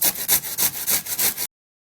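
An onion is rubbed back and forth over a grater in about eight quick, even scraping strokes, close and fairly loud, with no talking, ending abruptly in silence.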